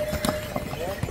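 Horse hooves clip-clopping on the mountain trail to Kedarnath, a few quick, close hoof strikes under steady chatter from people talking nearby.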